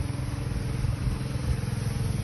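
Motorcycles loaded with harvested crop run at a farm harvest, their engines chugging in a steady, close, loud rumble that throbs continuously throughout.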